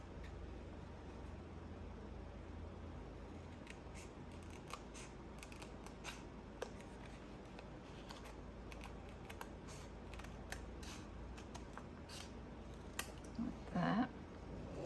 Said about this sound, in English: just little scissors, I'm going to cut that down here